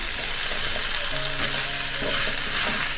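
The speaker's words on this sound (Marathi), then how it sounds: "तर आता आपण ही भेंडी मस्त फ्राय करून घेतल्या" Okra for a Maharashtrian bhindi sabzi fries in a pan with a loud, steady hiss, broken by faint scraping and clatter from stirring; close up and continuous, with no voices.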